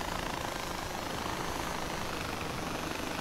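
A helicopter's steady thudding rotor hum in the video game Far Cry 4 fills the scene, loud and continuous without any speech.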